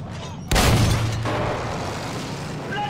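A grenade blast in the Battlefield 1 video game: one sudden loud, close boom with a rumbling tail, after a quieter lead-in.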